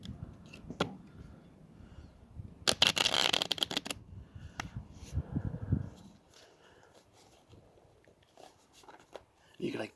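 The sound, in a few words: tarot cards being shuffled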